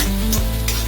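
Coarse chili, ginger and garlic paste sautéing in hot oil or desi ghee for Punjabi sarson ka saag: a steady close sizzle with a brief stir scraping through the pan.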